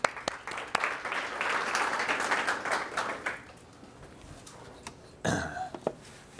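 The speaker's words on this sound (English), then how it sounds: "give him a nice round of applause" Audience applause for a guest lecturer in a university class, a few separate claps swelling into a full round of clapping that fades after about three seconds, then scattered claps and a brief burst of noise.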